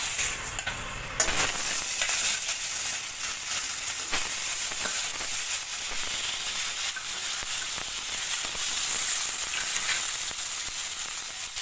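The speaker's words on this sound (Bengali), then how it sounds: "তেল গরম হয়ে গেছে, এবার মাছ ভেজে নেবো।" Fish fries in hot oil in a wok for a fish curry, a loud continuous sizzle and hiss that starts abruptly after a brief different sound and holds steady throughout.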